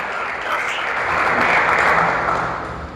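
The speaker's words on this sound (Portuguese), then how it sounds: "Você pode aplaudir o Senhor?" A church congregation applauding during a worship service, a steady dense wash of clapping that holds for about three seconds with no break.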